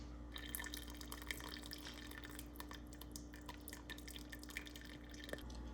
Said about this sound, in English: we're going to strain out all the bits and get out that liquid gold